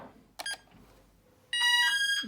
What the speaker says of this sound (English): Beeps again to confirm.